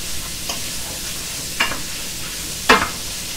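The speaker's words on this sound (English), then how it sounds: "Let's give this a quick stir through" A spoon stirs tomato penne sauce with rosemary in a pan over a soft, constant sizzle, with three sharp scraping strokes, the last one loudest.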